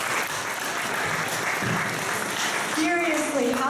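Steady applause from an audience at a poetry slam, dense clapping throughout, with a voice briefly rising at the end.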